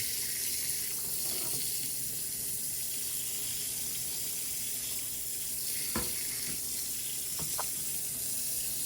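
Water runs steadily into a machine set for a 19-minute cycle as it fills before turning. The rushing hiss is close and continuous throughout, with a few faint clicks and knocks and no voices.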